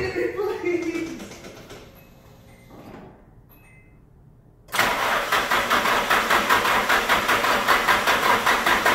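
A Nissan SR20 engine fitted with an equal length manifold and divorced downpipe cranks and catches, then settles into a loud, steady, pulsing idle after a quiet stretch with brief talk beforehand.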